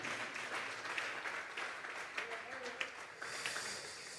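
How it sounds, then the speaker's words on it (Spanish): Church congregation clapping during a Sunday afternoon service, a faint, sustained patter of applause with a few sharper claps and some voices underneath. "Denle una ofrenda de palmas a Dios en esta tarde."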